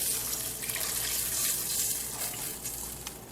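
Tap water pours steadily into a cooking pan on the stove for an Italian pasta dish, a continuous close splashing rush with no pauses.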